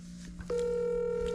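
A telephone keypad tone sounds, then a steady, close dialing tone holds for about a second.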